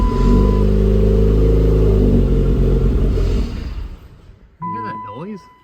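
Built Dodge SRT4 engine on its first start-up rumbles loudly at close range with deep low-pitched revving, then cuts out, followed by a person's voice.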